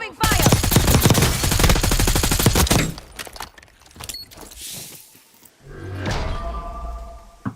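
Rapid automatic gunfire rattles in a long, loud burst in the Call of Duty: Warzone video game, followed by scattered shots and game effects as the firing breaks off.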